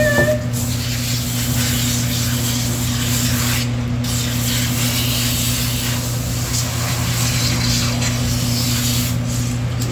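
Steady, hissing spray of shower water runs without a break, over a constant low hum, while a Maine Coon cat is bathed.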